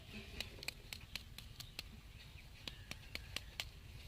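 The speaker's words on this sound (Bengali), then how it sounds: "আওয়াজটা শুনে নিশ্চয়ই বুঝতে পাচ্ছেন কতটা মুচমুচে হয়েছে" Crisp fried vegetable chops give a run of sharp, light crunches and crackles, about a dozen quick snaps spaced irregularly, close and fairly quiet over a low background hum.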